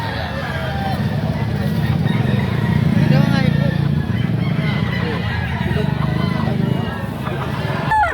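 Chickens cluck and a rooster crows amid a busy outdoor chicken market in Lipa, Batangas, Philippines, with a low engine drone and people talking over it.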